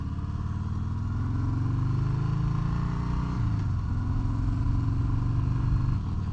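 A 2018 Harley-Davidson Sport Glide motorcycle rumbles steadily while riding, its deep engine note loud and close, with a brief shift in pitch midway before the even drone resumes.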